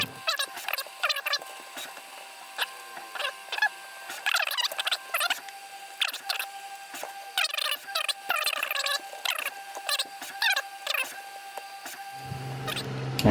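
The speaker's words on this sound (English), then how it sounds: "as a side note, I'm sure you can hear my printer right now." GD Tech X Max 3 3D printer running nearby, its stepper motors chirping and whining in rapid, varied tonal bursts that continue steadily throughout.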